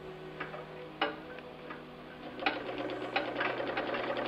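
A Willcox & Gibbs chain stitch treadle sewing machine runs a line of stitching, giving a close, steady mechanical whir with quick regular ticking clicks that speed up and grow louder in the second half.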